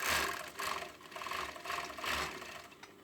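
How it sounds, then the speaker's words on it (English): An overlocker stitches the shoulder seams of a hoodie in short, fast, rattling runs. The mechanical whirring swells and pauses a few times, fairly quiet and with no talking. "Just overlocking the shoulders."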